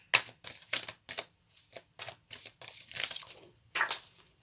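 Tarot cards dropped one after another onto a desk during a reading, a close series of sharp papery slaps and brushing shuffles in an irregular rhythm, with no talking.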